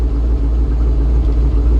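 An old car engine running steadily after starting, a loud close low rumble with a regular throbbing pulse and no voices.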